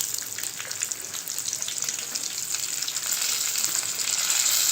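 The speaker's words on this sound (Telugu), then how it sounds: "ఇప్పుడు ప్యాన్ పెట్టుకొని జీలకర్ర, ఎల్లిపాయ," Cumin seeds and garlic fry in a hot pan for a mint chutney, a dense, even crackling sizzle that grows slightly louder, close and steady with no voices.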